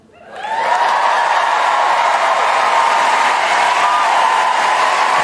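A studio audience on Ellen DeGeneres's talk show breaks into applause and cheering, swelling up within the first second into a dense, loud, sustained roar of clapping that holds steady throughout.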